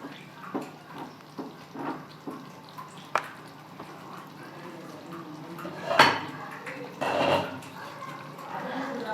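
Mutton being stirred and mixed in a metal cooking pot: a series of scraping clinks and knocks of a spoon against the pot, close and fairly loud, with a louder clatter near the end.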